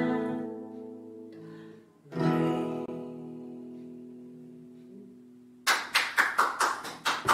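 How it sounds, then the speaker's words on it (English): A short burst of hand clapping, several quick claps in a row, close and fairly loud, coming in at the end after a stretch of held, sung or musical tones. "Why are you clapping?"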